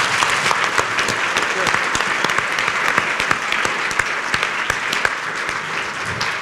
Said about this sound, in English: Let's have a round of applause for our panel.